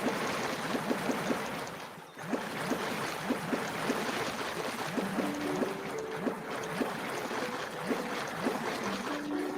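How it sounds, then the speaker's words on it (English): Rhythmic paddle strokes splash and swish through flowing water in the survival game Emerald Woods, steady and close over a continuous rushing stream, with faint tonal game chimes layered in. "Make the paddle. And let's paddle away."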